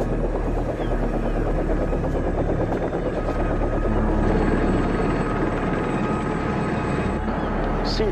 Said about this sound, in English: The stolen helicopter just landed at the Queen Mary.